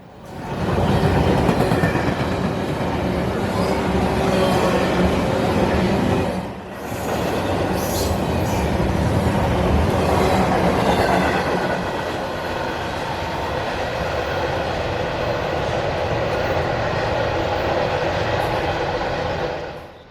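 A long southbound intermodal freight train rumbles past close by at Spring City, its wheels clattering and squealing steadily on the rails for the whole stretch, with a brief dip midway.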